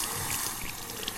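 Running water, likely from a tap, pours steadily onto sandalwood shaving soap, a continuous close hiss with no voices over it.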